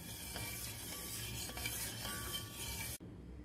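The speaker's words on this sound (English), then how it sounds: "I'm boiling 2 cups of milk." Two cups of milk heat in a pot on the stove, giving a steady soft hiss and bubbling rasp that stops abruptly near the end; no voices.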